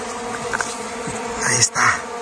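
Honey bees swarm and buzz around a hive inside a cave, a dense continuous drone close by with a few louder passes of individual bees sweeping near.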